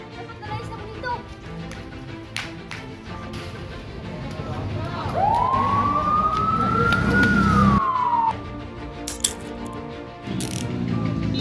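A police car siren rises into a single wailing sweep, holds, then falls away over about three seconds, heard over a busy background of clattering and scattered noises.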